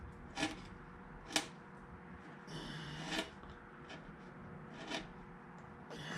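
A hand tool carves a wooden eagle, thinning the front tip of the beak, with faint, close scraping and rasping strokes and a few sharper cuts at irregular intervals.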